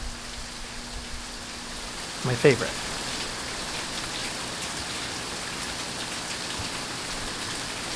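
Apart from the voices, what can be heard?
rain falling on a gray day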